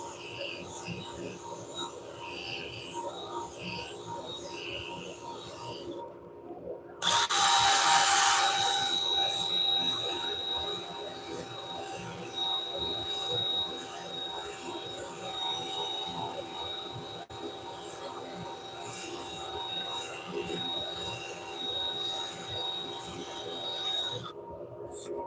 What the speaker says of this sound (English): Boy, trying to get this sanded up sometimes is really hard.